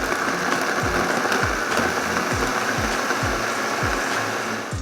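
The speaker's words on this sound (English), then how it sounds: "Start the blender on low." A blender whirs steadily at low speed mixing a piña colada, with a regular knocking pulse roughly every half second as ice tumbles against the blades.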